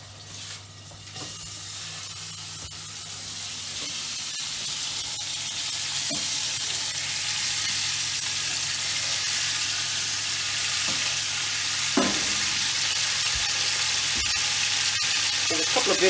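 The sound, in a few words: lamb searing in a hot pan, sizzling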